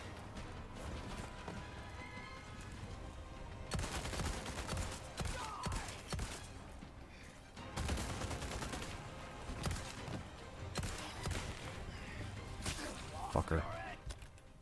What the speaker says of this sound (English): I'm gonna pepper him a little bit with some fucking handgun rounds